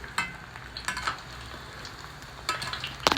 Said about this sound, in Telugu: సో మాడిపోకుండా అప్పుడప్పుడు అట్లాగా మనం గరిటెతో తిప్పుతూ ఉండాలి